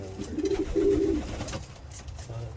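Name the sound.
breeder's pigeons cooing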